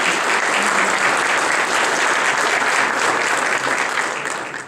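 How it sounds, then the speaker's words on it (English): An audience at an emergency-services conference opening session claps in sustained, dense applause for about five seconds, steady and fairly loud before tapering slightly at the end. "So a big applause to them"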